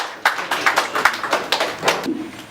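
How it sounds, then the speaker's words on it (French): Audience applauding artists after a conference presentation, a short burst of uneven hand claps, fairly close and moderately loud, fading after about two seconds. "On peut les applaudir, nos artistes,"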